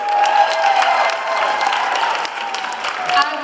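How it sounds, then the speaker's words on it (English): An audience at a poetry slam gives a round of applause for the poets, dense clapping with some crowd noise carrying steadily throughout. "Give another round of applause for all these amazing poets we've had tonight,"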